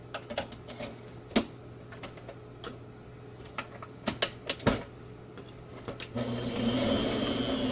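Scattered clicks and knocks come from swapping the heads on an electric hand mixer, then the mixer starts with a steady whirring hum for the final stretch, quiet and close.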